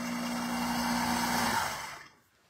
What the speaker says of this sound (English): I'm going to just drop that in the blender and I'm going to hit start again and let it mix for me.